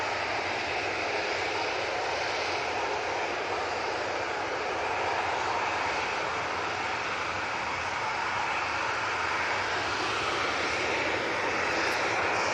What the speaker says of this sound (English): Gulf Air coming in from Bahrain using the 787-9 Dreamliner.